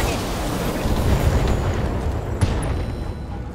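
A PPC weapon fires and explodes in the Battletech video game, a loud rumbling blast with crackling debris that fills the whole stretch, with a sharp pop near the end.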